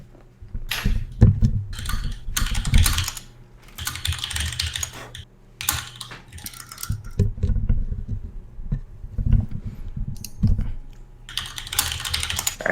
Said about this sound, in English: so that's why there's a little bit of typing